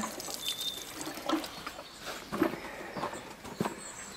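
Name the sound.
wetting concrete steps with water before cementing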